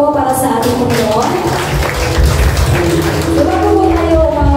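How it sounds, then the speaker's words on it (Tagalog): A church congregation applauds for the Lord during a service, with steady, dense clapping filling the room throughout, loud and close, over a low background murmur. "Malakas na palakpak po para sa ating Panginoon."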